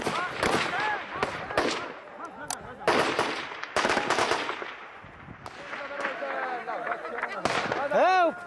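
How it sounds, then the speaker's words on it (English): Gunfire in the middle of a battle, with repeated sharp bursts and cracks of varying loudness, some distant and others closer, over a constant rumble. Voices shout and talk between the shots. "There's the muffled sound of machine guns, the ground shaking."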